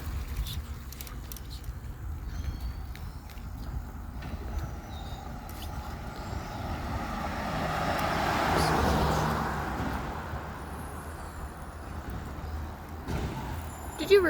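A garbage collection truck moving along a street, a low engine rumble with a louder hissing air-brake burst swelling near the middle, heard from a moderate distance with faint voices in the background.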